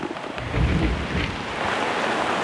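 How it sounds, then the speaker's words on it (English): Heavy rain pours down outdoors beside a half-built DIY shed, a steady, dense hiss with low rumbling underneath that stays loud and continuous throughout. "Yep, here comes the rain."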